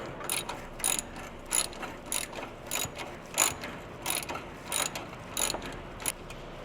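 Bolts being unscrewed from the bumper of a 1994 Toyota Hilux Surf during an ARB bumper install, as a ratchet clicks in a steady run of about a dozen close, crisp bursts with no talk.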